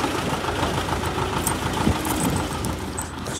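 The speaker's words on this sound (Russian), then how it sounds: "Вот он, трактор посыпает реагент." A tractor spreading de-icing reagent on the street idles with a steady, knocking mid-range engine rumble. It sounds fairly close and continuous and is heard without any talk.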